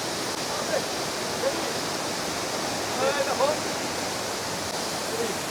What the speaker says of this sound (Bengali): দেখো এটাই হচ্ছে জোনা জলপ্রপাত।